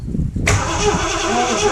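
A Triumph Stag engine cranks briefly and then catches abruptly, settling into a loud, rough running idle close by.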